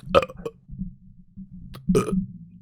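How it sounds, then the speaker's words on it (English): Two loud, close burps from podcast hosts in a recording studio, the first short and gurgling and the second deeper and longer, separated by a quiet pause. "you get to listen and hear our burps"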